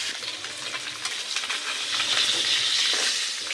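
Koi fish fry in hot oil in a pan, a steady bright sizzle and crackle running throughout, close and fairly loud with no talking.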